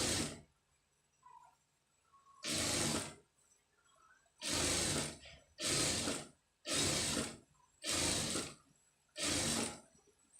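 A sewing machine stitches along a blouse edge in six short, loud bursts of rapid mechanical whirring separated by quiet pauses, close by and with no voices.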